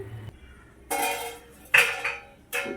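A lid goes onto a pan of greens-and-egg curry on the stove, with three separate metallic clanks about a second apart, close and distinct against a quiet kitchen background, and nobody speaking.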